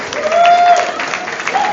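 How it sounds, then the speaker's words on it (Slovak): Short burst of audience clapping for intermediate dancers at a Slovak picnic, close and fairly loud, with a faint sustained tone running underneath. "Ďakujeme veľký potlesk pre našich intermediates"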